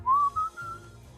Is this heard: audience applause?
no